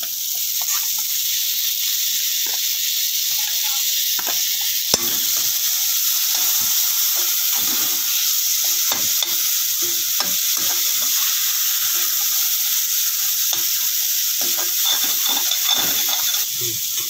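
Tomatoes frying in a pan of spiced oil for a pea and potato curry, a loud continuous sizzle with frequent soft scraping taps of a spoon stirring throughout.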